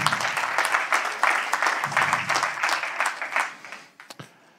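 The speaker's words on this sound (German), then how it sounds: "Und Applaus für Theresa" Audience applause for a panelist at an IT security law panel discussion, a steady burst of clapping that fades out over a few seconds, with a few last claps trailing at the end.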